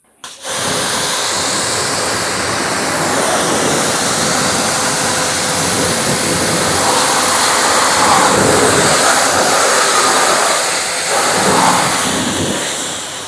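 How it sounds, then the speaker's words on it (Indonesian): A REAIM RPW 300 PRO jet cleaner spraying water on its standard setting: after a brief start, a loud, steady rushing hiss runs without a break, with no voices. "Debit airnya pun kelihatan deras teman-teman ya. Ini masih settingan standar bawaan, semburannya udah segacor ini teman-teman."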